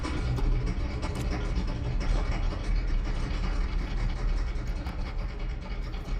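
A machine in the space-survival game Stationeers grinds and churns like an old diesel engine struggling to start, a loud, continuous, rumbling drone that holds steady for several seconds with no voices.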